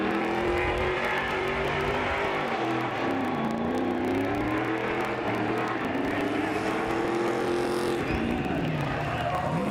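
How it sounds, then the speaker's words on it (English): Race car engine droning and shifting pitch on the Long Beach street circuit during a 2022 race, loud and continuous with a wavering tone, crowd and a voice faintly underneath. "that haze of smoke you see rising up behind the grandstands, that's Robby Gordon using up whatever's left of his tires"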